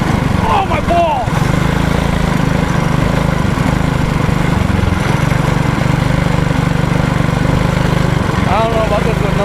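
A mini bike's small engine runs steadily with a loud buzzing drone close by, while people talk and shout over it.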